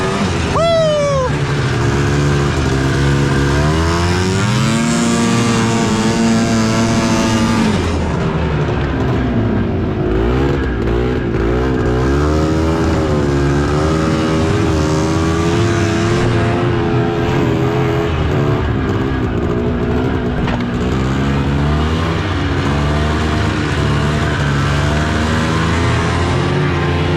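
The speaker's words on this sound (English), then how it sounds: "Full speed, full throttle. Gotta burn out all the old oil." An engine run hard at full throttle to burn out old oil, loud and close, its revs climbing and falling in long sweeps throughout, with speech briefly heard over it.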